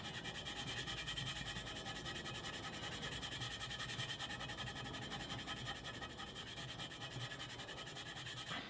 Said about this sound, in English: take a red Scotch-Brite pad